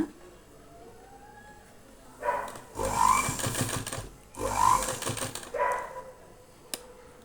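A sewing machine stitches piping onto a blouse in two loud, rapid whirring bursts, separated by quieter pauses with faint background noise.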